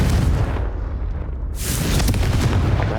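A Confringo spell goes off in Hogwarts Legacy on Nintendo Switch, a loud, dense blast that booms through the whole clip with a brief dip before swelling into a sustained, crackling eruption.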